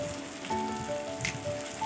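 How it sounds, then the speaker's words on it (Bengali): Tomato frying in a pan while making a Bengali bata fish curry, a steady crackling sizzle with faint spattering pops throughout, close and moderate in level, no talking. "আর টমেটোটা একটু নরম হওয়া পর্যন্ত আমি ভেজে নেব।"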